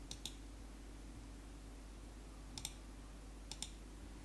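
Sharp computer mouse clicks, a quick double click near the start and further paired clicks later, close and crisp over a quiet steady hum, with no talking.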